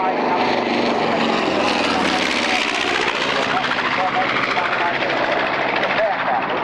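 A B-25 bomber flies past in formation at the 1997 Duxford Flying Legends airshow, a loud, steady propeller-engine roar that fills the whole moment and swells slightly, with a commentator's voice partly under it.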